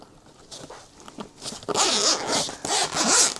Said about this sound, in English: I like that it comes in a zip case too. I feel bad, I'm going to rip it open.